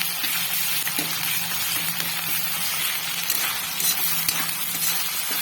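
Ginger garlic paste sizzles steadily in hot oil while being stirred in a pan for dum aloo, a continuous close frying hiss with faint scraping, no talk.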